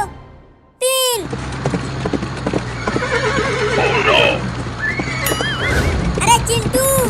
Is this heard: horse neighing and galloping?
yes